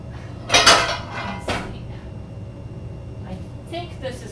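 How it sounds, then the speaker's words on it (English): A 10-inch cast iron skillet clanks on the stove with a couple of heavy metallic knocks and scrapes early on, followed by lighter clinks, while a person talks nearby. "now heat olive oil in a 10-inch cast iron skillet"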